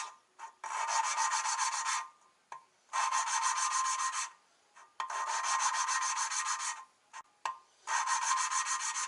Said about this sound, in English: So when I'm rotating, I'm lifting, reposition the valve on the surface.